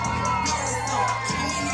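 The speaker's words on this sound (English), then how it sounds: "Look at them get the crowd fired up." A wrestling crowd roars for the City Boys tag team, with dense, loud cheering, whoops and children's shouts filling the whole moment, no clear speech over it.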